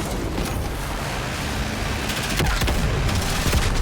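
Dense gunfire rattles through a Call of Duty Black Ops 6 campaign battle at a palace gate, continuous loud bursts and booming shots layered over a noisy combat backdrop with no clear talk.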